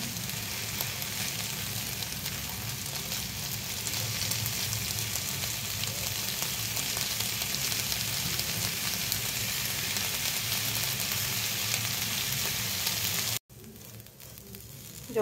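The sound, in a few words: sautéing ingredients in a pan for a bharta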